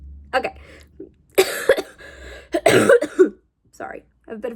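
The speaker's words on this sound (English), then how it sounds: "I have a bit of a cough" A person coughs several times in short, harsh bursts, close by, with quiet gaps between them.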